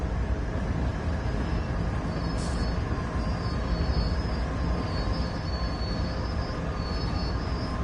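Freight train brakes on an 11,000-ton BNSF train in Train Sim World 4, a loud continuous rumbling roar with a steady high hiss running throughout as the heavy train slows, no talking.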